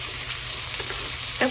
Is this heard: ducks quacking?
no